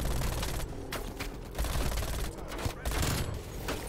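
Very rapid automatic gunfire in Call of Duty Cold War, a loud unbroken stream of shots with brief pauses, heavy and close, layered with other battlefield game sounds.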